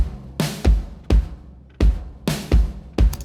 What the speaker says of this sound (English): If I listen to just the direct drums without parallel compression,